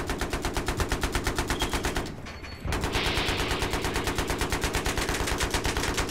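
Rapid, rhythmic machine gun fire at a helicopter in Battlefield 3 multiplayer, loud and sustained, with a brief pause near the middle before bursting again.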